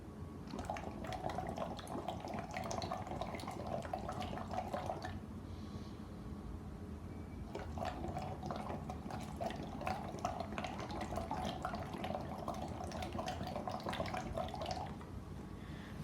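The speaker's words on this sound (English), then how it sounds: "So as you can see the little bubbles there, that's providing resistance for my exhalation." Water bubbles inside a BreathSlim breathing trainer during exhalations, with two long bursts of close, gurgling bubbles separated by a short quiet pause.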